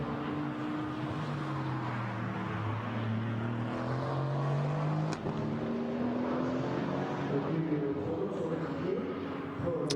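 An Aston Martin Vantage AMR GT4 race car lapping the Spa circuit, its engine droning with rising and falling pitch as it runs downhill and through gears, heard at a distance under steady ambient noise.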